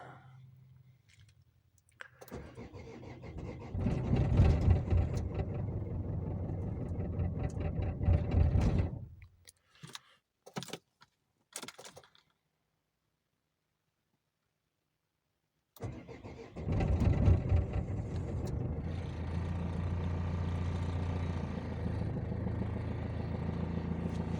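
An Opel Vivaro van diesel engine starts after injector replacement. It cranks and runs roughly, cuts out with a few clicks and a silent gap, then fires again and settles into a steady, close idle.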